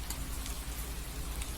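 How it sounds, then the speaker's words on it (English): Steady rain in the video game Do NOT Take This Cat Home, a dense, even hiss of falling drops heard alone at a fairly close, uniform level with no pauses. "in the middle of your walk, it starts to rain."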